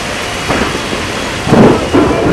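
Heavy monsoon rain pours over Hyderabad's northern suburbs such as Quthbullapur, Jeedimetla and Kompally, a dense steady hiss with louder rushing surges toward the end and no voices.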